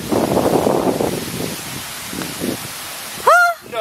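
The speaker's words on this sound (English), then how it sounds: "Of course we would get a gust of wind right now." Gusty wind buffets the microphone outdoors at a mini golf course, a loud broadband rush for the first second and a half that eases into softer intermittent gusts, followed by a brief shrill vocal exclamation near the end.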